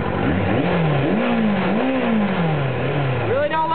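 A 1995 Suzuki RF600R motorcycle engine revs up and down in several surging pulls, its pitch climbing and dropping, close and loud, with a person talking over it.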